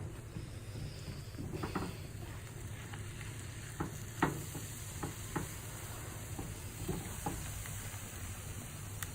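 Noodles and sauce are stirred together in a hot pan, a steady soft sizzle with scattered scraping clicks from the utensil, close and quiet, no talking.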